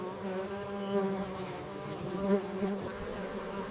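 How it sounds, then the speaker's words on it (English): Honeybees hum in a dense, steady buzz as they fan their wings inside a hive, a close, continuous drone with slight swells in loudness. "Bees fan their wings to evaporate excess moisture."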